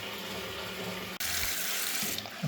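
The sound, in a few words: water flushing down a blocked toilet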